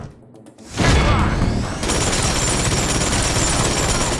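Gunfire erupts in the video game Urban Chaos: Riot Response, a sudden loud burst followed by a sustained, dense rattle of shots.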